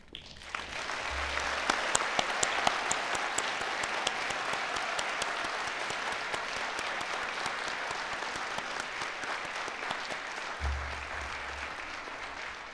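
A large audience at a graduation ceremony applauds the new graduates steadily, with sustained clapping that swells early and continues evenly, with faint low hums near the start and end.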